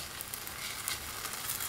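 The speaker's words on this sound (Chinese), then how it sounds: "油热以后放入饼皮" Flatbread dough for homestyle pancakes sizzles in hot oil in a pan, a soft, steady crackling hiss with tiny pops, fairly quiet and uninterrupted.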